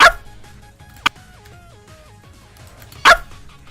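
A dog lets out two sharp barks about three seconds apart, loud and close, over soft background music with a stepping melody.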